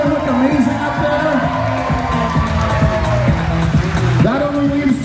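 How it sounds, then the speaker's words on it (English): Wedding reception guests cheer, whoop and clap as the wedding party is introduced at Perona Farms. Crowd noise runs loud and continuous throughout, mixed with speech and music. "can we have a round of applause for this whole wedding party right here?"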